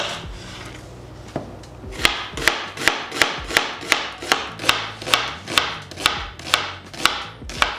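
A knife chops an onion rhythmically on a wooden board, about a dozen sharp, evenly spaced strikes following a few softer taps.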